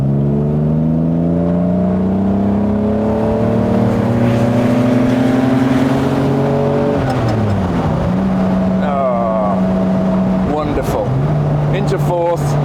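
Aston Martin DB4 engine pulling hard from inside the car, a loud rising drone that climbs steadily, drops briefly at a gear change, then builds again with wind and road rumble beneath.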